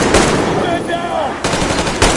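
Rapid automatic gunfire in the video game Metro Exodus, loud and close, with dense bursts and shouting voices mixed in amid the combat noise.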